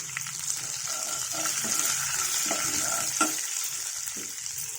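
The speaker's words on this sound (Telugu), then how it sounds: "అదిగోండి పోపు వేగింది కరివేపాకు" A tempering of grated coconut and curry leaves fries in oil, making a loud continuous sizzle close by, with occasional stirring scrapes and pops.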